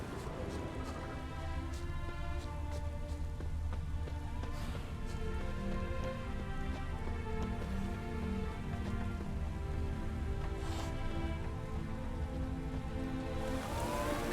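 Steady rainfall on surfaces in The Witcher 3 video game, a constant hiss of drops. A soft musical tone and occasional faint game sounds sit underneath it, and no one speaks.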